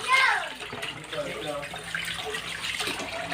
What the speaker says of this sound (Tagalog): Yan, naghuhugas si babae.